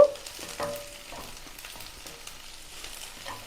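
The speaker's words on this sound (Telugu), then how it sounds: "ఆనియన్స్ ఫ్రై అవుతున్నాయి కదా మనం తీసుకున్న కప్పు స్వీట్ కార్న్ కూడా వేసేసుకున్నాము ఆయిల్లోనే ఫ్రై అయిపోతాయి" Onions and sweet corn frying together in hot oil for corn puffs, giving a faint, steady sizzle with a few soft clinks and stirring sounds, and no talk.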